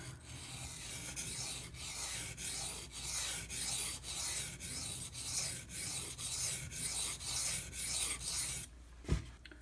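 A steel knife blade is drawn over a Pride Abrasives 600 grit water stone in a steady series of about fourteen even, close rasping strokes, ending with a brief knock.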